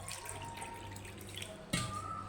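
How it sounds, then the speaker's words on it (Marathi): Water poured from a small bowl into flour for a batter, a short close trickle and splash that ends in a sharper pour near the end. "त्याच वाटीने आपण एक वाटी पाणी घालायचं"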